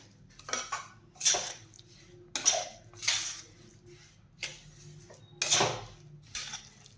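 Sesame seeds and peanuts stirred together in a pan with the gas switched off, for sesame laddoo, giving a series of about seven separate metallic scrapes and clinks of a spoon against the pan, close and moderately loud, with no talking.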